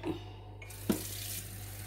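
Tap water runs steadily into a glass, a continuous soft hiss with a brief splash partway through, close by and with no talking.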